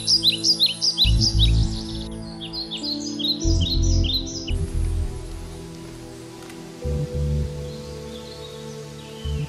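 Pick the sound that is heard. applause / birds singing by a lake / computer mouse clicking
birds singing by a lake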